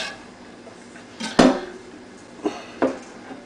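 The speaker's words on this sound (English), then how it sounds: "The rest I'm going to put back in my pan and let it maintain those juices." Slices of grilled London broil go back into a pan with a few clanks and knocks of a utensil against metal, one sharper hit and two lighter ones over a quiet background, close and without talk.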